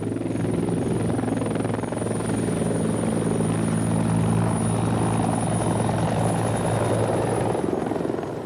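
A helicopter taking off, its steady loud rotor thrum and engine whine filling the whole stretch close by, with no talk over it.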